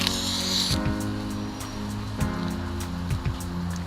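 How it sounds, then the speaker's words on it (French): Steady rain patters on a surface outdoors during an improvised Swiss fondue cook-up, a continuous hiss with a few faint clicks and knocks, no voices. "Et nous, pendant ce temps, on est sous la pluie."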